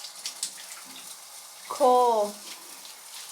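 Water sprays from a high-pressure dual rain shower head with a handheld wand and filter, a soft, steady hiss running throughout, broken once by a short spoken word.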